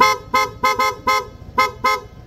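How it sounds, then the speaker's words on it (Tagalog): Blow Punk snail horn fitted to a QJ ATR150 scooter through a horn selector switch, blasting seven loud, close honks in quick irregular bursts, some doubled, with no talk. "Tapos yung busina dala din ni Ma'am Tat, blow punk na snail horn"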